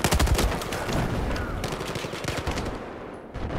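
M4 assault rifle fire in Battlefield 4: loud, rapid bursts of close shots crack in quick succession, thinning briefly before a final burst.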